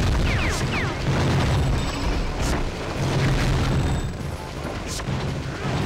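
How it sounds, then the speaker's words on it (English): Exploding barrels in the PS2 game Gungrave go off in a rapid series of loud, booming blasts packed into close quarters, with crashing debris and gunfire-like bursts layered over a constant rumbling action soundtrack. "This level seems to have an obsession with the exploding barrels for some reason."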